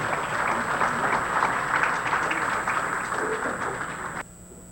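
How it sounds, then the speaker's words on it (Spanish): An audience at a forum in Chancay gives a speaker a sustained round of applause, a steady, even wash of clapping that holds its level for several seconds before cutting off abruptly. "Recibamos con un fuerte aplauso a nuestro respetable hermano Pedro Miguel Angulo Arana."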